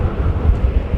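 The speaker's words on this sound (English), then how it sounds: "The wind causing all sorts of funny noises coming from these engines" Airliner engines at London Heathrow Airport give a steady, low rumbling roar mixed with gusty wind noise, continuous and fairly loud across a brief moment with no talking.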